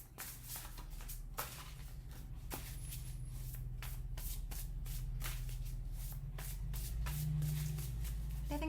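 Tarot cards are shuffled by hand in a quick, irregular series of soft riffling slaps and flutters over a low steady hum, close and fairly quiet, with no voices.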